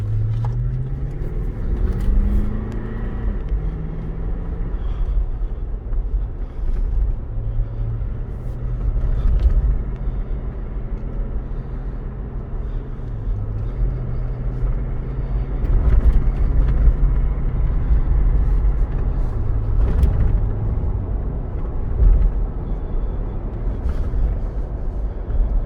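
A 2011 Lexus LX570 SUV drives along a bumpy road, its engine a steady low cabin rumble that rises and falls with shifts and acceleration, heard from inside without talking.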